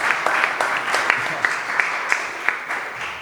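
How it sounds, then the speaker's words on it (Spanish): A conference audience applauds at an arts and wellbeing event, with scattered, fairly light claps in a loose rhythm and a faint background murmur. "Pueden aplaudir si quieren."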